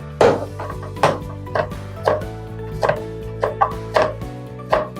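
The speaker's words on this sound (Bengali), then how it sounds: "আমরা এই নাইফটা ইউজ করলাম এটা শসা কাটার জন্য" Cucumber sliced with a sharp Zepter kitchen knife on a board: seven or eight crisp, evenly spaced chops, close and fairly loud, each a short knock with a faint ring, no talking.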